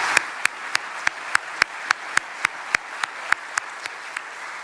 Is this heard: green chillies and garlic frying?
no